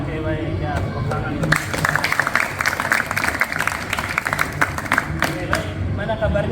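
Audience of schoolchildren or teachers clapping on cue in a classroom session, a burst of crowd clapping that rises after a moment and continues in uneven rhythm, with voices mixed in.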